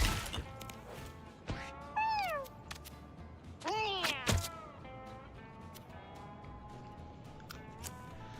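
Cartoon cats meow in the video game Mewgenics, several separate rising-falling meows at about two and four seconds over a faint game background, one fairly loud and drawn out.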